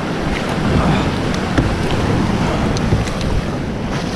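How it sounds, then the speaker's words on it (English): Ocean waves breaking under strong wind near Kapapa Island, recorded from a boat; a loud continuous roar of surf and buffeting wind noise fills the whole stretch with no pause. "Where are these waves going? They're just going in all the way, huh? I mean, there's some big sets coming in here."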